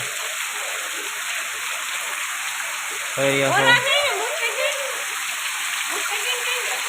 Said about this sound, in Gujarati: ભાવનગર જિલ્લાના ગાજર તાલુકામાં વરસાદ આવી રહ્યો છે.